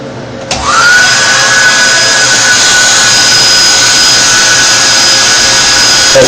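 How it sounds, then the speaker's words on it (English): A wall-mounted hotel hair dryer switches on with a click and spins up into a loud, steady whooshing whine that runs on without a break. "I'm going to break out the hair dryer that they have hooked to the wall"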